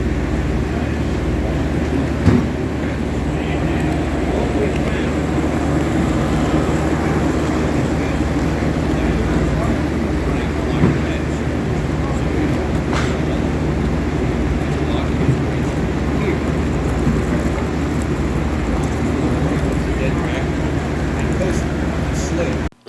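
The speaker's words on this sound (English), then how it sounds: "So here we have another train coming," A steady rumbling clatter of an S gauge model train running past continuously at a model train show, with low mechanical hum and faint rail clicks throughout.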